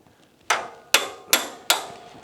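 Four sharp metal-on-metal hammer blows strike a punch to drive a hood pin out of a Ford Model A, spaced unevenly about half a second apart, close and ringing, with no voices.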